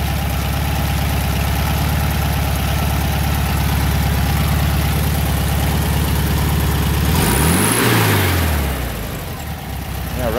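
A car engine idles steadily and close up, a smooth continuous hum with no talk; near the end the tone sweeps and dips as if briefly revved or shifting, then settles quieter.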